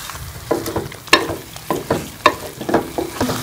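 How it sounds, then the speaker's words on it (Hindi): Chicken frying with cumin powder, coriander and salt for a white chicken karahi, loud close sizzling broken by rhythmic spatula scrapes and clacks against the pan, about six strokes in quick succession, with no voices. "इसको अच्छी तरह से मिक्स करके हम भून लेंगे"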